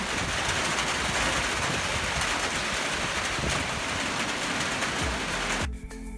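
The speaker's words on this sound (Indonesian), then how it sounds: "lalu awan menurunkan hujan ke permukaan bumi" Rain falling in a dense, even hiss that stays loud and unbroken for several seconds, then cuts off abruptly near the end.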